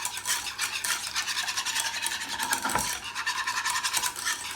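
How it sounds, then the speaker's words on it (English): A whisk scrapes briskly around a bowl, beating egg yolk into milk in a fast, continuous swishing rhythm, close up and without talk. "I like to get my whisk and I like to just whisk it together. To break the egg yolk up"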